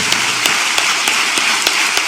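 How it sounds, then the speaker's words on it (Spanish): A church congregation applauds in a steady, fairly loud burst of many hands clapping, with a few sharper individual claps standing out at regular intervals and no talk over it. "Denle un aplauso a Jesús."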